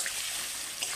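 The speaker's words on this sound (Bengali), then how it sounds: "একটু জল দেব" A short splash of water poured into a pan of frying chicken curry paste, a close, continuous trickling wash lasting about a second.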